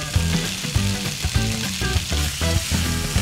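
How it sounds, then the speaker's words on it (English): Fresh tuna searing in a hot pan, giving a bright, constant sizzle and crackle with music playing over it. "what I wanna do is just really quickly sear off"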